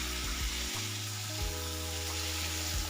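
Boiled wild taro tipped into a hot pan for an Assamese stir-fry, frying with a dense, continuous sizzle and crackle, while low droning tones shift underneath.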